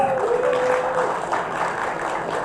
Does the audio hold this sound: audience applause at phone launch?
yes